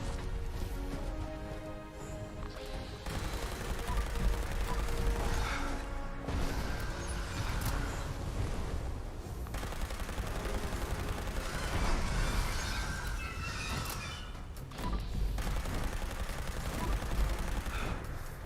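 Floaters fire on a Scorch Beast during a Fallout 76 event, a steady clatter of rapid weapon fire and impacts blended with game music and mechanical noise, ongoing at moderate level.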